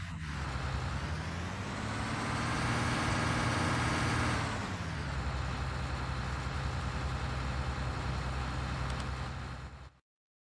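A wheat harvester engine in a farming video game runs as a steady, loud motor drone, with a rising-and-falling pitch sweep partway through, then holds a constant hum before cutting off abruptly.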